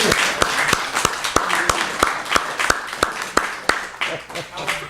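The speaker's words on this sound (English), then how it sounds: "Can we get another round of applause?" An open mic audience gives a round of applause. Sharp, spaced claps ring out at a fairly regular pace, with a murmur of voices underneath.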